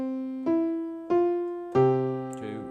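Solo piano plays a slow, unaccompanied rendition of When the Saints Go Marching In with both hands, three sustained chords struck about every half second and left ringing, close and clear with no talking.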